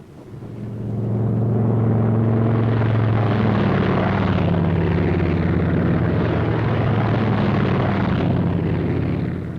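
Military aircraft of a World War II squadron take off, giving a loud, sustained engine roar with deep droning tones that swell in over the first two seconds and hold steady, close and continuous, with no talk.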